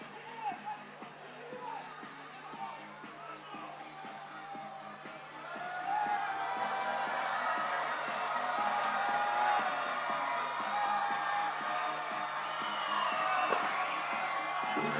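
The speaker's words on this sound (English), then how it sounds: "The crowd is making as much noise as they can." Basketball crowd at a 3x3 World Tour quarter-final in Chengdu cheering and whooping continuously, swelling louder about halfway through, with arena noise and a commentator's voice underneath.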